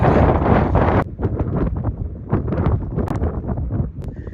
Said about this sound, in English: Got some big wind gusts coming in.